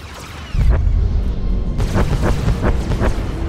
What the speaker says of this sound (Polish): Idziemy za to tam, gdzie wybuchy słychać.